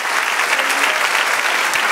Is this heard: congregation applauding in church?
yes